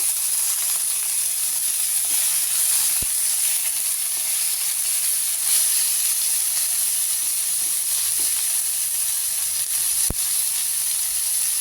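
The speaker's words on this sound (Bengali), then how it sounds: "ভালো করে কষে নেব" Chicken kosha masala sautéing in a pan, a steady close sizzling hiss with a couple of sharp clicks, no voices.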